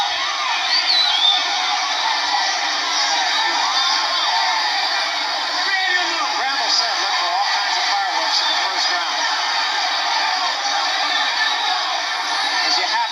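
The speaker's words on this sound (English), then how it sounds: "Crowd into this fight right off the bat." A boxing crowd roars steadily through a WBA world lightweight title fight, a dense, distant wash of cheering and shouts heard under a commentator's continuous talk.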